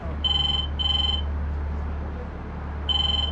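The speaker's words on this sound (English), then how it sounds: "a phone call to BP executive Collins comes through and he picks up" A telephone rings for a call to a BP executive in London: two short electronic double-trill bursts, a pause, then a third, loud and close over a low background drone.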